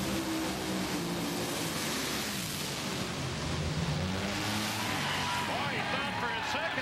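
Funny car engine roaring at an NHRA drag racing event, the 2007 O'Reilly Fall Nationals, as cars stage at the line; a loud, steady wash of engine noise holds throughout beneath a commentator's voice.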